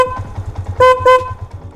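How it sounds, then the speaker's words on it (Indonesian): Two short honks from a 12-volt snail-type horn fitted to a Yamaha MX King motorcycle, each blast loud and bright, sounding close over a low idling engine rumble. "Kemudian kita klakson lagi."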